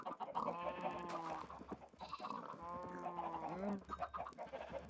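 Chickens in the Minecraft video game cluck and murmur in a busy, overlapping chatter, with a soft goat-like bleat mixed in. The sound is faint and continuous for about five seconds.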